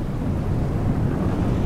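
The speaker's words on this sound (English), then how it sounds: "there's a right storm kicking off here" Thunderstorm in Microsoft Flight Simulator at a Norwegian airport: a dense, low rumbling roar with rain-like hiss, steady and loud throughout, with no voices.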